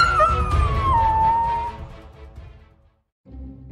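A cartoon dog lets out one long, loud howl that bends downward in pitch and trails off, followed by a brief pause and a short rougher sound at the end.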